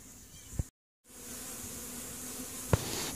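Honey bees buzzing in an open yellow beehive with drones still inside, a steady close hum interrupted by a brief dropout and a couple of sharp knocks.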